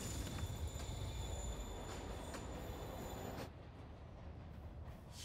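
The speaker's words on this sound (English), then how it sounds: "Train moving. Lee's getting away." A train in the Spider-Man Remastered video game rolls along with squealing wheels and a steady rumbling, then the sound drops off abruptly as it pulls away.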